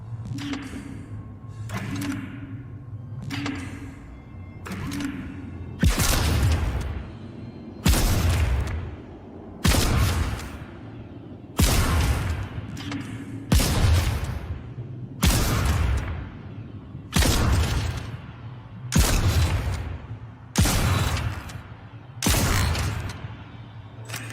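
Weapon shots from the Dead Space video game, a series of about ten heavy, punchy blasts spaced a couple of seconds apart, each with a layered mechanical tail, over a steady low hum.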